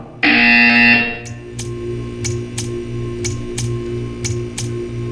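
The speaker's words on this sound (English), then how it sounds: "You will hear a buzzer. When you hear the buzzer, stare at the art." A loud, harsh electronic buzzer from Portal 2 blares for about a second, then a steady series of sharp ticking clicks follows at an even pace over a faint hum.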